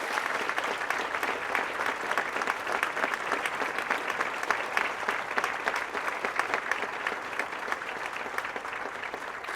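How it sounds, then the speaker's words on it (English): A large audience at a university presidential investiture gives sustained, even applause. The clapping holds at a steady moderate level throughout with no speech over it. "Let's give her a big round of applause."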